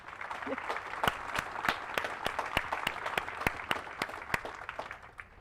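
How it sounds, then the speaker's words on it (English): A crowd applauds at an outdoor military cadet graduation ceremony in Kentucky. Steady, sustained clapping fills the space, with sharper individual claps standing out near the microphone. "let's give it a great big round of applause for this beautiful weather"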